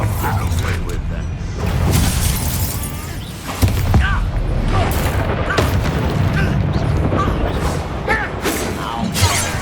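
Spell blasts from the Hogwarts Legacy video game thump and boom repeatedly amid clattering mechanical effects and crackles, dense and loud throughout, with voices speaking over the combat.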